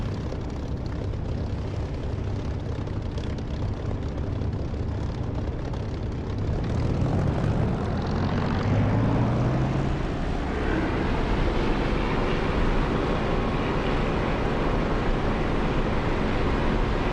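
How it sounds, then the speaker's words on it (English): Engine roar of an aircraft taking off in the DCS flight simulator game, a continuous loud drone that swells and climbs in pitch about halfway through, with no talking. "Okay, I think I'm good for takeoff."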